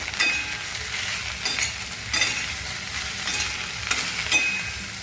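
Okra with chopped tomato stirred in a frying pan for masala bhendi bhaji, a continuous soft sizzle broken by periodic scraping strokes of a spatula roughly every second, close up with no voices.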